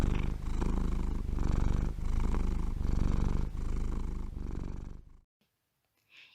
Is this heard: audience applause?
no